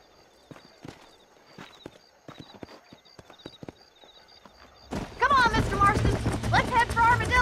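Horse hooves clip-clop in Red Dead Redemption as the rider travels outside Armadillo, a steady rhythm of distinct knocks alone at first, then buried under loud speech for the last seconds.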